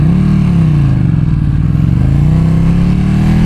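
A 2025 Ducati Panigale V2 sport bike engine revs loud and close, its pitch sweeping down and back up in a sustained throaty drone with no talking.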